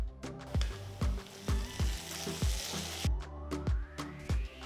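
Crushed ginger and garlic fry with softened onions in a pan, a loud sizzle broken by a regular series of sharp clinks, roughly two per second, as a spoon strikes the pan while stirring.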